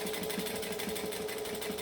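A sewing machine stitches a Catalina crossbody bag in a fast, even, close mechanical chatter that runs without a break.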